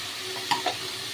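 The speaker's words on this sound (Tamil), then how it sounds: "இந்த காயை எண்ணெயில் வதக்கி விட்டுக்கோங்க" Vegetables sauté in hot oil in a pan for sambar, giving a soft, steady sizzle with two brief stirring scrapes close to the mic and no voices.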